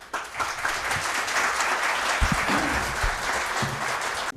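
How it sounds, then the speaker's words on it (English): Audience applause fills a symposium hall at a medical congress after a plenary talk, steady and sustained across the whole stretch with dense overlapping claps, ending abruptly. "I think the applause gives you an idea how much everybody appreciated your talk"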